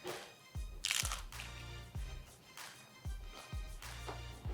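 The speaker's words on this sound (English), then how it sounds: "Let's do a little crunch test, shall we?" Crunchy battered old-fashioned onion rings being bitten and chewed, a few sharp crisp crunches spaced out over several seconds, close and fairly loud with no talking.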